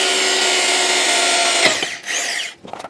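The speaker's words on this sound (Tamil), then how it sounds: "இந்த இடத்துல வந்துட்டு பார்த்தீங்கன்னா ஒரு 10 mm நம்ம ட்ரில் பண்ணி வந்து ஓட்ட போடலாம்." A power drill bores a 10 mm hole through the handle of a hand water pump, whining steadily and loud for well over a second before the bit breaks through, followed by short bursts of drilling.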